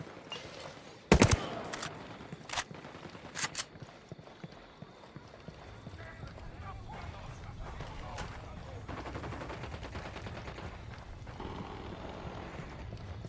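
Gunfire in Ghost Recon Wildlands, a few sharp loud shots bunched near the start, then ongoing game noise with scattered pops and a steady rumbling bed.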